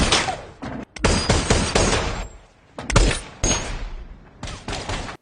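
Video game gunfire erupts in dense, loud volleys, bursts of rapid shots separated by brief gaps, close and harsh, with no talk over it.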